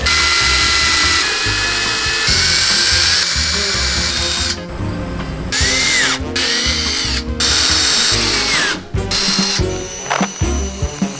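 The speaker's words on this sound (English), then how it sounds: "I was gonna drill a smaller hole first, but I might just send it with this big one." A loud power drill with a large bit whines and bites through a moped's body in bursts, pausing and restarting several times, with ratcheting mechanical chatter close by.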